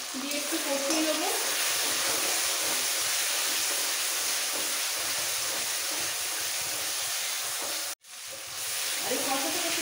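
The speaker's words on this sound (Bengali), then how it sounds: "জিরে বাটাটা দিলাম, দিয়ে একটু কষিয়ে নেবো" Ground cumin paste sizzling and frying steadily in a hot pan while being stirred for a catla fish curry, a dense continuous hiss that briefly cuts out near the end, then resumes.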